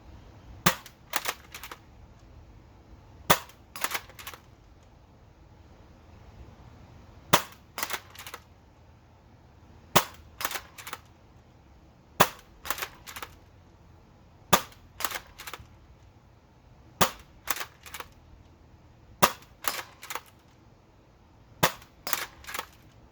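A DMR dart blaster fires bamboo half darts in sharp, loud snapping shots, usually in quick pairs or triplets spaced a couple of seconds apart, each followed by a fainter click of reloading or impact, with no talking.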